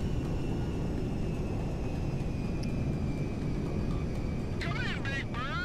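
Airplane in GTA Online droning steadily throughout at an even, loud level, with people talking over the engine and a brief whistling tone near the end.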